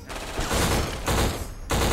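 Dense gunfire bursts fill the first-person shooter Black, with loud sustained volleys of shots in overlapping waves and brief lulls between them.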